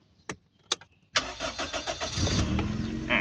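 A Toyota Corona AT190 sedan with a hard brake pedal: two short clicks, then the engine cranks and catches, settling into a close, steady running idle with a rough, pulsing rumble.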